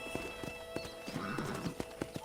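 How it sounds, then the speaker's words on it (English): Rhythmic clip-clop of horse hooves at a steady trot in the video game Red Dead Redemption, with a horse whinnying midway; clear and close, no talking. "let's see if you can still ride a horse"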